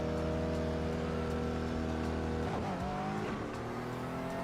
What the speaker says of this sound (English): We got one car approaching.